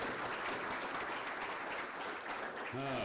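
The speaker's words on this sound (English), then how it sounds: "A round of applause for our chamber people." An audience at a Cedarburg community gathering applauds chamber of commerce members with a full, steady round of clapping that runs throughout, with a voice coming in near the end.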